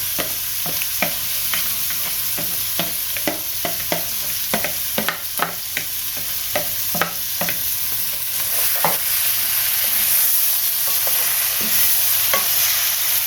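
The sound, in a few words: shrimp and lobster sizzling in pot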